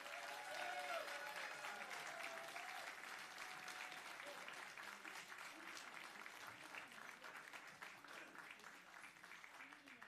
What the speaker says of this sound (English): Give a round of applause so Bill can have an idea of how many people are here today.